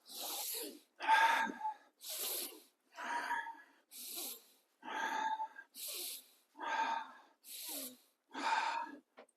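Deep, forceful breaths are taken during a men's breathing exercise class, about ten evenly spaced loud inhales and exhales close to the microphone, each a rushing, airy burst separated by brief pauses.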